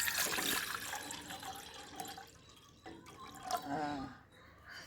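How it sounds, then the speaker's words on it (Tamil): Water pours into a pot on the stove while coriander tea is being made, a soft splashing and gurgling stream that varies in intensity, fairly quiet and close, with no talking. "தண்ணி ஊற்றுறேன்"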